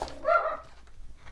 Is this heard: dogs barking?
yes